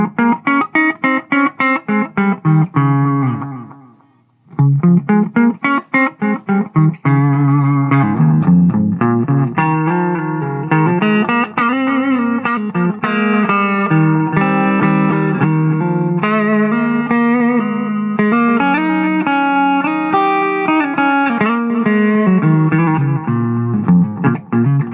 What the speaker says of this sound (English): you're going to hear a longer delay time between the original signal and the process signal